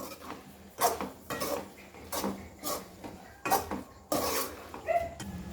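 Green food colour being stirred into reduced milk and grated bottle gourd for halwa, a spoon scraping and clinking against the pan in repeated strokes, close and fairly loud with no voices.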